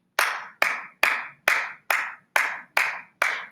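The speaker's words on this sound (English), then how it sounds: "Hopefully you counted 8 claps." Eight sharp hand claps in a steady, evenly spaced rhythm, each a crisp close-up smack with a short decay, with no voices between them.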